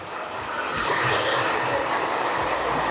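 A hair dryer blows at close range on a man's short hair in a barbershop during a clipper-over-comb cut, a loud steady whooshing roar that fills the whole stretch without pause.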